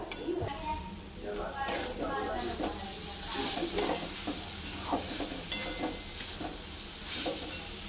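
Grated coconut and sugar for barfi stirred in a pan, giving a soft, continuous scraping and faint sizzle with light utensil taps, heard quietly under someone talking.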